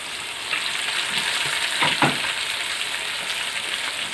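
Chopped onions and green chilies sizzle steadily in hot oil for a Kozhikode chicken biryani masala, a continuous close frying hiss with a brief louder burst of stirring partway through, no talk.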